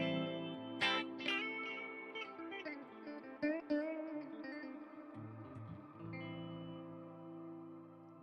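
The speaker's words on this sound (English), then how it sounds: "Listen to that. There's another reverb." Electric guitar played through a Quad Cortex modeling the John Petrucci JP2C clean channel, with reverb and a light shimmer: plucked notes and chords ring out and decay into a lush, echoing wash, moderately soft and without talking.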